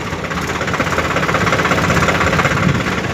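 A Swaraj 744 tractor, hauling a heavy load of sand, runs with a steady, loud and close diesel chug and a rough knocking rhythm, with no voices over it.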